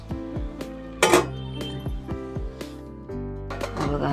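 A lid set onto a pot of Maharashtrian coconut rice (narali bhat) cooking on a low flame: a sharp metallic clink, with softer knocks and rattles of cookware before and after, close by.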